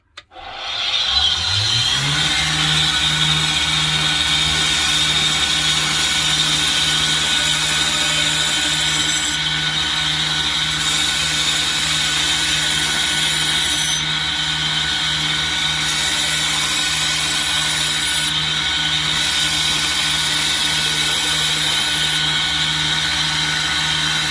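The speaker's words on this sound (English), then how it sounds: "So the next step is to grind the back sides of those down a little bit." A grinder spins up and runs without a break against the back edges of rough knife blanks. The whir is loud and close, with a steady hum and grinding rasp throughout and no talking.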